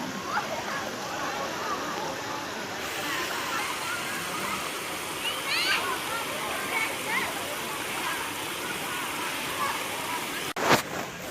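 Water rushes steadily at Khlong Maduea waterfall in Nakhon Nayok, where people play in the clear water, with voices and splashing mixed into the constant flow and a sharp splash or knock near the end.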